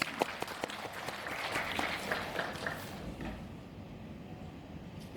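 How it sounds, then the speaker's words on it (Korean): An audience at a dental orthodontics lecture breaks into applause, a crackle of many hands that is moderately loud at first and thins out toward the end, with no talk over it. "뜨거운 박수로 환영해 주시기 바랍니다"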